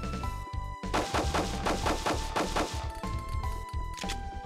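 Rapid gunfire from an anti-materiel rifle in a video game, with a run of loud, closely spaced shots and some sharp crashes over a steady background tone.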